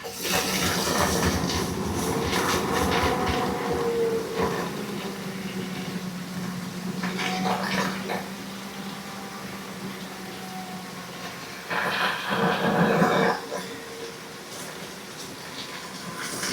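An off-grid hydro turbine runs with a water jet that comes out crooked, giving a loud continuous rush and hiss of water. A humming tone rises and falls beneath it, with bursts of stronger spray near the middle and end.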